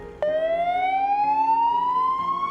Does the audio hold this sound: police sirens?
yes